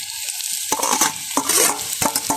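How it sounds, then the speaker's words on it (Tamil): Onions sizzling in a hot pan as mashed potato is stirred in with a spoon, crackling frying noise under quick scraping stir strokes, close up with no voices. "பார்த்தீங்கன்னா வெங்காயம் நல்லா பொரிஞ்சிட்டுது. நாங்கள் இப்போ மசிச்சு வச்ச உருளைக்கிழங்க போடுவோமா."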